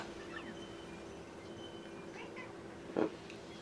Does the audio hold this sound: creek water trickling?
no